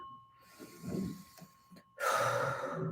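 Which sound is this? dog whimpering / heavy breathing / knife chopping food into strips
heavy breathing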